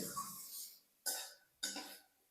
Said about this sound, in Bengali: এই লঙ্কার ঝাঁজের জন্যই কিন্তু এই কাশিটা হচ্ছে